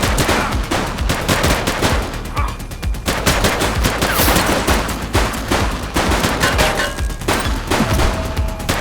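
Police gunfire at suspects in The Precinct, a cop game: dense, continuous rapid shots and automatic bursts crackle loudly throughout, layered over one another with almost no pause.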